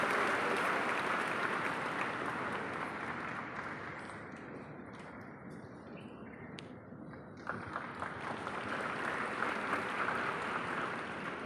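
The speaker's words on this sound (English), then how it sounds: "Honor the presence of our esteemed guests with a big round of applause." A big round of applause from a youth gathering's audience honouring a minister and an MLA at Kanha, Shadnagar; dense crowd clapping that dips slightly midway, then swells again, continuous throughout.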